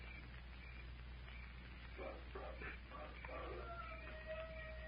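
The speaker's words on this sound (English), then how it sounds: "Wolf howl." A wolf howl sound effect from an old-time adventure radio drama, thin and distant, with drawn-out wavering cries rising through the middle and a long sustained tone near the end, over steady low hum and hiss.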